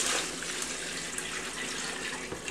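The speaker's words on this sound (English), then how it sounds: "And now what we'll do is we'll add 1 gallon of cold water." A gallon of cold water pours steadily into a stock pot of vegetables, thyme and parsley, a continuous close gushing splash without pause.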